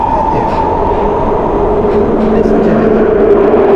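A train runs through England with a steady, loud rumble and rolling hum, continuous throughout with faint clatter and no clear voices.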